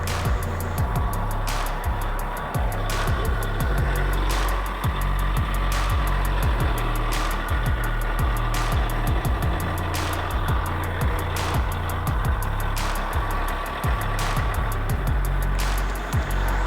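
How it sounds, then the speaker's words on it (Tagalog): CAT D8R bulldozer diesel engine idling, a loud, steady low rumble with a regular knocking pulse running through the whole stretch. "one click start na yung makina kasi malakas na yung battery voltage"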